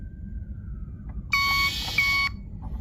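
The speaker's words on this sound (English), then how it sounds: "So when it backs up, we have that beep in there, the caution beep" Two loud electronic beeps from a 1/76-scale Turbo Racing RC semi truck's reversing caution alarm, each held about half a second with a short gap between, over a steady low motor rumble.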